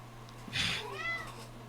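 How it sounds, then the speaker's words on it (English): A house cat gives a single short meow, close and fairly quiet, over a faint steady background hum. "Hey, you wanna meow?"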